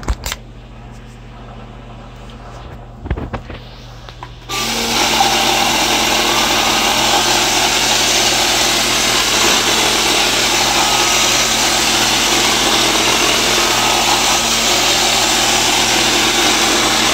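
A modified iRobot Roomba running on a 20V battery starts up after a few faint clicks and settles into a loud, steady motor whine and brush rattle that holds without a break, close to the microphone.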